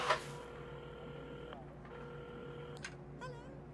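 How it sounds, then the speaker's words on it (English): A telephone being dialed by the character Carmen at a café counter in the video game Assemble with Care: a short series of steady electronic tones with brief breaks between them, over a soft background hum, with no talking. "at the counter, Carmen had started dialing the phone"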